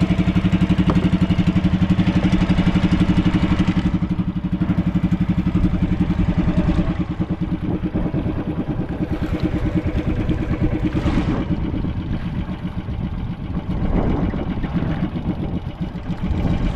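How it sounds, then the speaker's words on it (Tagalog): A boat's motor runs loud and close as it turns the boat, a continuous rumbling drone whose pitch and strength shift slightly, with no speech over it. "Pinandar para pumihit ang bangka"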